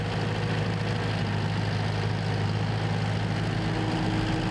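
A 155-horsepower Deutz four-cylinder engine idles steadily on a Spearhead Twiga SPV2 mower, a constant low rumble with a faint vibrating hum and no voices.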